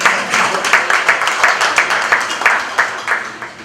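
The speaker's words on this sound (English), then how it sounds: "Give him a round of applause." Audience at a university student-success reception applauding a keynote presenter: a room of people claps at moderate loudness, with a fairly even pulse of louder clap bursts throughout.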